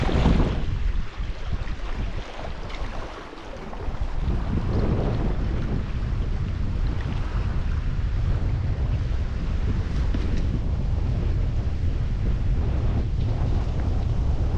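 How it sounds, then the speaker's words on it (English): Steady wind gusting across the microphone beside the French River, a loud continuous rush of breeze with a brief lull partway through, no voices. "Nice breeze, which was against us the entire way here"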